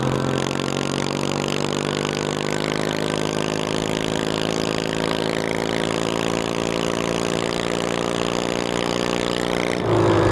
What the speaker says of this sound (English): Why is this Transaxle so noisy, bruh?